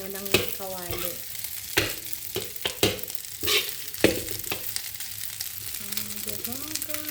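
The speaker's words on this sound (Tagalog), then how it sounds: "Hindi ko inuon yung exhaust fan para maririnig nyo yung ano ng kawali." Fried rice with vegetables frying in a wok with the exhaust fan off, a continuous close sizzle broken by sharp spatula scrapes and clanks at irregular intervals, with a faint voice at moments.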